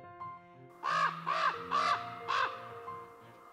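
A raven in the wild near Yellowstone calls four times in a steady series of harsh, croaking caws, fairly close and clear, with a quieter call before and after.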